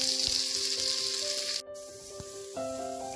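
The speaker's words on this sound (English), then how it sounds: "Next we are going to add in the coconut." Shredded coconut fries in a pan with raisins and almond flakes for a banana dessert, sizzling continuously with light scraping stirs, loud and close, with no voices.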